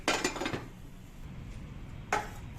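A metal lid clanks and rattles onto a pan of simmering paneer gravy in a home kitchen, a few close clinks at the start and another brief clatter near the end, with quiet background between.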